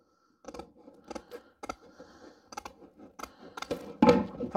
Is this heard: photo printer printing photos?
no